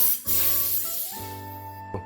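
Compressed air sprayed onto a dirty vehicle air filter full of sand particles, a close, loud, steady hissing blast lasting about two seconds.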